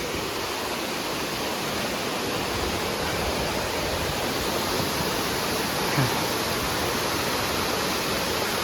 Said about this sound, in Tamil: மூணாவது ஃபால்ஸ். இன்னும் கொஞ்சம் தூரம் கிட்ட போகலாம்.